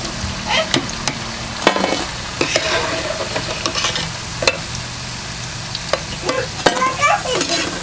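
Crispy poha cutlets fry in oil with a loud, continuous crackling sizzle, punctuated by frequent scraping and clacking as they are turned over in the pan.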